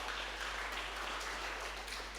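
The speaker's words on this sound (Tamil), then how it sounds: "நல்லா கைத்தட்டுங்க மாணவர்கள்" Students in a Tamil classroom or school event clapping as names are read out, a steady dense wash of applause with no voices over it.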